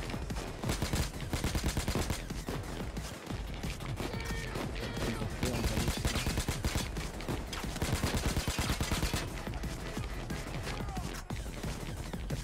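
A minigun fires in the video game Payday 2. The weapon whirs in one loud, unbroken, rapid stream of shots that lasts throughout, with faint voices underneath.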